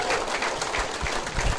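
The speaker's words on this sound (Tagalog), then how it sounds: "Palakpak ang lahat ng tao na kaintindi sa negosyo." A seminar audience at a business presentation applauds in a short, fairly quiet burst of many hands clapping, lasting under two seconds.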